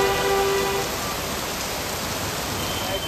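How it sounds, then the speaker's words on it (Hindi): Heavy monsoon rain pouring down in a constant dense hiss, loud and unbroken, with a faint tonal hum in the background and no speech. "बहुत तेज़ बारिश हो रही है"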